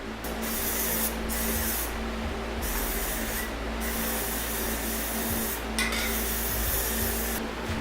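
An aerosol can sprays Plasti Dip onto a Lexus rim in a series of steady, close hissing bursts with short gaps between passes, over a faint low background hum.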